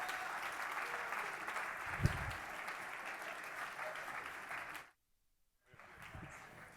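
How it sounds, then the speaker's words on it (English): Crowd applause as three fitness trainers are introduced for a fireside chat at a fitness event: sustained clapping with a few louder claps, cut by a brief silent gap and then resuming. "let's give it a round of applause for Kenny Santucci"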